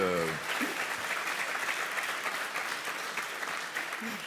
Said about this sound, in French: C'est vrai qu'on applaudit cette demoiselle.